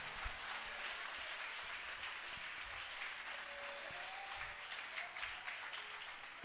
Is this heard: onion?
no